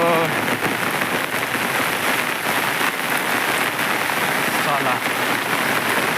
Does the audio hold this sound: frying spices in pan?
no